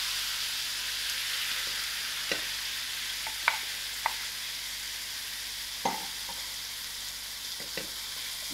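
Cabbage and baked beans cooking over very low heat in a pan, a quiet steady sizzle with a handful of sharp spoon scrapes and taps against the pan, and no talking.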